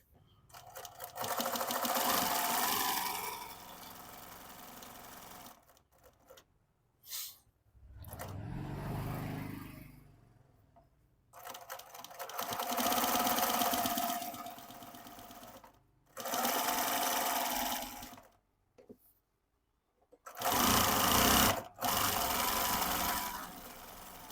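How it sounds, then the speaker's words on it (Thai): A BAOYU BML-20U93D direct-drive zigzag sewing machine stitching the end of a sleeve, running in several loud bursts of steady rapid whirring, separated by pauses and brief handling noises. "เย็บ ปลายอาร์มติดเสื้อได้เลยนะครับ"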